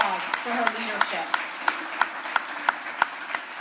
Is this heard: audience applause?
yes